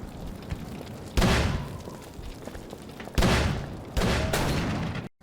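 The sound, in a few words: gunfire from the video game Call of Cthulhu: Dark Corners of the Earth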